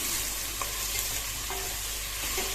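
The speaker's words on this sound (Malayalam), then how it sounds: "നല്ല ഹൈ ഫ്ലെയിമിൽ തന്നെ വെച്ചിട്ടാട്ടോ ഞാൻ ഈ ഒരു ഉള്ളി വാട്ടിയെടുക്കുന്നത്." Sliced onions sauté in coconut oil over a high flame, sending up a steady, dense sizzle with occasional soft scrapes of a stirring spoon, close and continuous with no voices.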